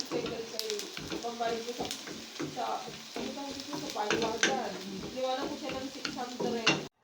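Broccoli sautéing in a pan, a soft sizzle under repeated scraping and clattering stirring strokes, with a voice talking at moments alongside.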